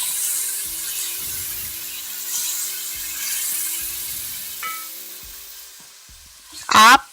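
Yogurt stirred into leftover food frying in a pan, a continuous close hiss with soft scraping strokes, ending in a brief louder sizzling burst.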